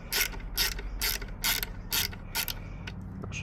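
A ratchet works Torx bolts out of the inlet plenum on a Ford Focus MK2 ST/XR5 Turbo, giving seven bursts of rapid clicking at a steady rhythm, close and fairly loud, with a low background hum and no talking.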